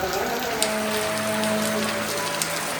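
Steady rain falls in a village, a dense, even patter on surfaces that continues without a break, with no voices.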